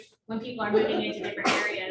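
A sharp, brief sneeze bursts out partway through someone talking at a partner meeting, partly masked by the ongoing speech.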